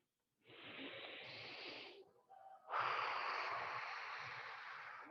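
Deliberately exaggerated breathing during an exercise routine: a long, loud, airy inhale, a short pause, then a strong, sustained exhale, close to the microphone with no talking.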